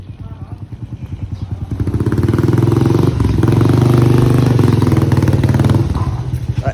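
A motorcycle engine idling close by with a steady, loud chugging rumble that swells slightly midway, with faint voices in the background.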